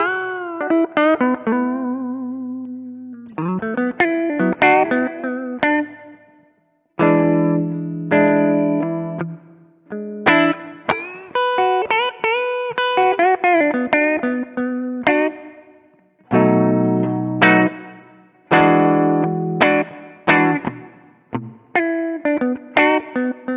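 Gibson Les Paul Goldtop with P90 pickups played through a Kemper Fender Champ profile at zero gain, clean tweed-style guitar with strummed chords and single-note phrases, close and alone with brief pauses between passages.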